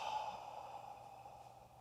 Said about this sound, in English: I'm gonna exhale through my mouth fully.